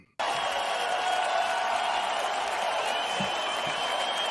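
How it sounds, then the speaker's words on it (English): Steady applause from a crowd starts abruptly and continues at an even level throughout, a dense wash of clapping. "Applause for that, man."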